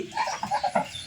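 A few short, quick calls from Chinese ducks sound close by, poultry chattering on a duck farm.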